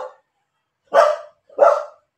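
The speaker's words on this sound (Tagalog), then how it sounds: "sandali, maingay itong aming aso." A household dog barks twice, loud and close, with clipped fragments of other barks at the start and end and quiet gaps between.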